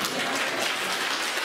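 Audience applause for the performing artists at a village concert in Pătrăuții de Sus, a dense, steady clapping that fills the whole moment with no voices over it.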